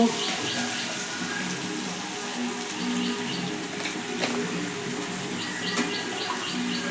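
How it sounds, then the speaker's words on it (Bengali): Washing water poured into a cooking pot while making a potol (pointed gourd) dish with yogurt, a steady continuous splash and trickle running close by for the whole stretch. "আমি একটু ধোয়া জল দিই"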